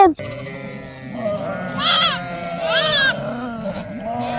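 A few sharp, wavering sheep bleats from a mountain flock, close and distinct, with someone talking in between and around them.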